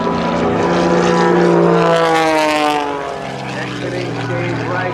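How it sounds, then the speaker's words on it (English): Aerobatic propeller plane at an air show open house performing a triple avalanche of high-speed stall snap rolls, engine roaring loud and near with pitch sweeping as it rolls, then easing off as it passes. "Actually going to force the aircraft to a series of high-speed stall snap rolls on top of the roof once, twice, 3 times around"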